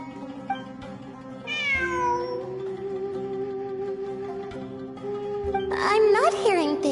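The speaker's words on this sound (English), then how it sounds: "I'm not hearing things. It really is a cat." Cartoonish cat meows from the video game Genshin Impact, rising and falling in pitch over a steady background music drone, with a burst of bright chirpy meowing near the end.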